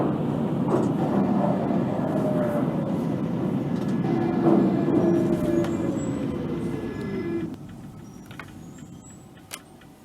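A London Underground Central Line train in the BVE train simulator game pulls into Shepherd's Bush station, with a loud steady rumble and falling brake squeals that ease off as it slows to a stop.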